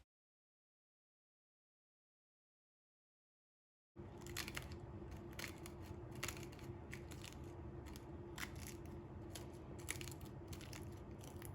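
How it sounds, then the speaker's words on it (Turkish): Layered, crispy minced-meat börek baked in a tandır oven crunches as a knife cuts back through it, after a few seconds of silence, with dense crackling bursts close up and no talking. "Böreğimizin çıtır sesini duydunuz."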